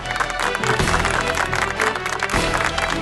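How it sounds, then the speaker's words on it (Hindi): A crowd at an anniversary ceremony for Vishwamitra India Parivar claps in dense, sustained applause, a loud, continuous wash of many hands with a little crowd noise underneath. "आज के इस दिन के जोरदार तालियां हो जाए"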